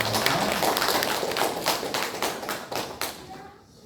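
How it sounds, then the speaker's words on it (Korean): Congregation clapping in encouragement during Sunday service announcements in a church, a few seconds of close, uneven claps with voices mixed in, fading at the end. "우리 격려의 박수 드립니다."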